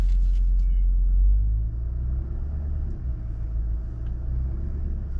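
A Land Rover L405 on a test drive after a throttle body swap gives a low, steady engine rumble heard from inside the car, with a louder burst at the start before settling.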